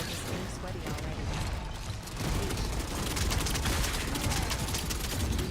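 Dense, continuous gunfire and rapid mechanical clatter from the Gears of War E-Day video game, a heavy firefight that keeps going and grows slightly louder partway through.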